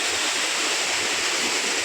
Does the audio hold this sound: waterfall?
yes